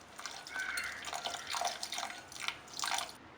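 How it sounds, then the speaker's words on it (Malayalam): Water trickles and drips into semolina dosa batter in a few short pours and splashes, close and fairly quiet with no talk. "ഇനി ഇതിലേക്ക് വളരെ കുറച്ച് വെള്ളം ചേർത്ത് കൊടുത്ത് നല്ലതുപോലെ മിക്സ് ചെയ്തെടുക്കാം."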